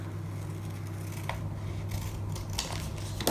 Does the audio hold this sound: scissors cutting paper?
yes